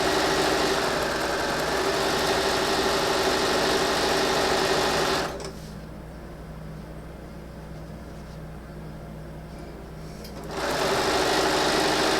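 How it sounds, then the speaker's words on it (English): A sewing machine stitching quilt strip sets together, running in a loud continuous whir that drops to a softer, slower hum midway before speeding back up. "I'm just going to keep an eye on that as I sew all of my strip sets together in"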